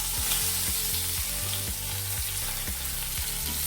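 Onion, garlic and curry leaves sauté in hot oil in a pan, making a steady close sizzle with a low rhythmic background hum and no voices.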